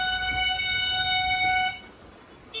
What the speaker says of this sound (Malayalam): ഇവിടെ എയർ ഹോൺ അടിച്ചു കഴിഞ്ഞാൽ സ്റ്റാൻഡിന്റെ വീതി കൂടുന്നതാണ് കേട്ടോ ഇവരെ വിചാരം